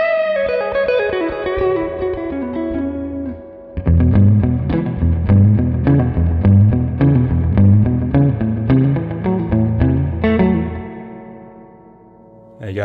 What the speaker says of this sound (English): turn it all the way up and you're in kind of surfy sort of territory